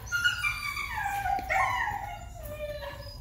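A nine-week-old female Dutch cross puppy gives drawn-out whining yips and howl-like cries, falling in pitch, fairly close and alone without talk.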